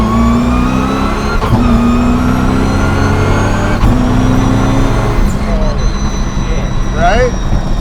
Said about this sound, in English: But the downshifts, it's intense, isn't it?